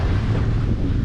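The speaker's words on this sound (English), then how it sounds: "It is too windy to be on the beach today" Strong wind roars and buffets the microphone on a beach in a loud, continuous low rumble, with surf-like noise underneath and sand blowing in the air.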